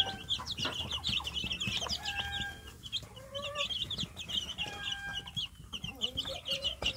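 Young free-range village chickens cluck and peep steadily throughout, many birds close together, with soft chirps layered over a low farmyard background and no talk.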